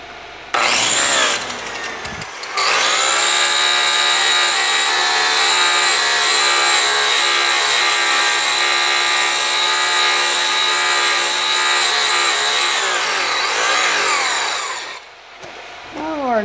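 A power buffer loaded with brown compound bar polishes an aluminum rim on a Renegade RV, giving a loud, steady whining drone that spins up, holds for about thirteen seconds, then winds down.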